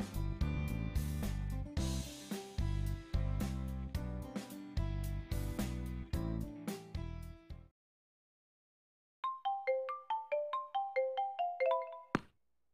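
An incoming-call phone ringtone plays a bright, repeating melodic tune, loud and close, stops into silence, then resumes as a higher chiming phrase before cutting off abruptly.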